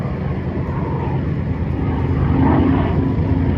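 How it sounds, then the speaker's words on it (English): An Avenger propeller aircraft takes off from a runway, its engine droning steadily and rising slightly in loudness as it climbs, with no speech over it. "This final Avenger coming off the runway"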